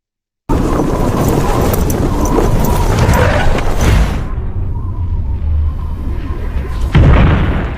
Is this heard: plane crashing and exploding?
yes